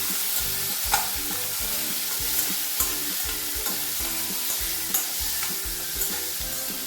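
Chopped tomato tossed into a pan of vegetable curry, frying with a steady sizzle while a spoon stirs in regular scraping strokes, close and alone.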